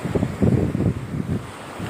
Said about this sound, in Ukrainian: Трошки вам ще хвилю покажу.